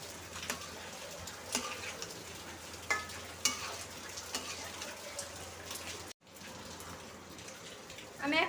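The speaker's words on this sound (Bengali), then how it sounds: "আমি এবার চিকেনটা এর মধ্যে দিয়ে দেবো। ভালো করে এবার মাংসটা কষাইতে হবে।" Chicken pieces stir-fried in mustard paste in a pan, with a steady broadband sizzle and scraping stirs throughout, a brief dropout near the end, then the frying sizzle resumes.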